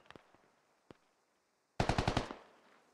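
Rapid burst of automatic gunfire in the tactical shooter game Squad, preceded by a few scattered single shots; moderately close, with no talk over it.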